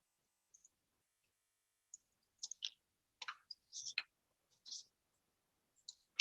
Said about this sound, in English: So I'm going to cut a wide triangle.